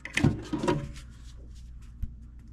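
The small metal drawer of a U.S. General mini tool box slides open with a close scraping rattle and clunk, followed by a quiet pause and a single soft knock.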